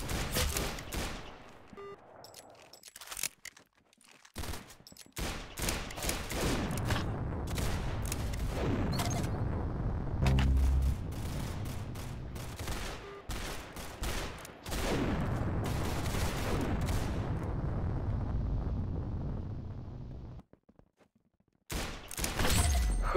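Dense gunfire fills a Roblox Arsenal match: rapid, loud automatic bursts and shots run almost without a break, with a few short pauses and some sharp impacts mixed in.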